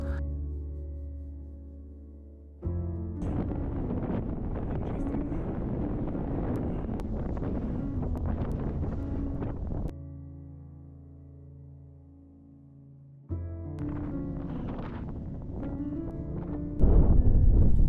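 Strong wind buffeting across a mountain range in the Tararua main range, a steady loud rumbling roar with gusty surges, a brief lull in the middle and a harsh final blast, close to the microphone and without voices.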